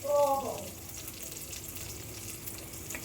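Spices and onion are tempered in hot oil for lemon rice, a short burst of close sizzling and crackle that settles into a steady frying hiss.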